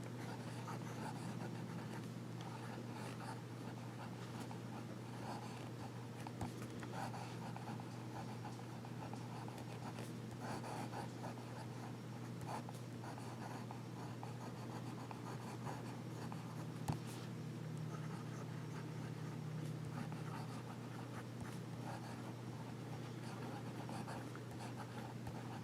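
Nemosine Neutrino fountain pen with a medium nib writing on paper in regular handwriting, a faint steady scratching close by under a constant low background hum, with no talking.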